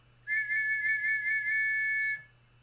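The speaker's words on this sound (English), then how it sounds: "this is a short blast on the trench whistle" A single short, shrill blast on a trench whistle, steady and piercing for about two seconds, then cutting off cleanly against a quiet background with a low hum.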